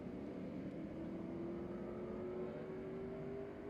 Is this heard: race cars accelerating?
yes